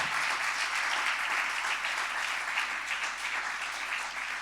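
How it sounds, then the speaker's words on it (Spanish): A church congregation applauds during a worship service, a dense, steady wash of many hands clapping together for the whole stretch, fairly loud and even, with no talking over it. "Dale un aplauso al Señor por su palabra"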